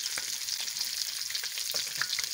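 Eggs fry in oil in a pan, browning to a crisp, with a continuous bright sizzle and crackle and a few faint soft pops. The frying is steady and close, and no one speaks.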